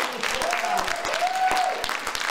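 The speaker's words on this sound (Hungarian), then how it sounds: "egy nagy tapssal üdvözölhessen a közönség" Steady audience applause at an evening event in Fonyód, greeting film director András Szőke, a dense patter of many hands clapping evenly throughout, with a faint tonal whistle-like sound over it.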